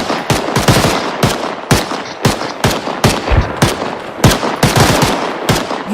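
Rapid automatic gunfire from the Arma 3 military shooter, loud and close, with dense irregular bursts of sharp shots across the whole stretch and no talking.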